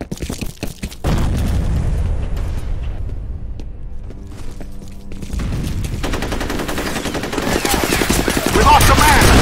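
Sustained automatic gunfire with heavy explosions in the shooter game FEAR, loud and dense, rising to a thunderous close after a brief opening burst.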